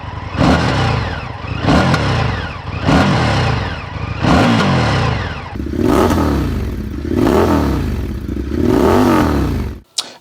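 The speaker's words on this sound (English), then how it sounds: "that was the stock exhaust versus the Bassini exhaust" Indian FTR1200 motorcycle revving, first on its stock exhaust and then on a Bassini exhaust. Loud, close repeated throttle blips rise and fall in a regular rhythm, and the later revs sound deeper and rougher before cutting off abruptly.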